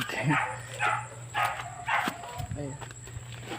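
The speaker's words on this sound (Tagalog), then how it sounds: "umiyak na yung aso" A dog whines and whimpers in repeated short cries, close by, with people talking and laughing over it and a steady hum behind.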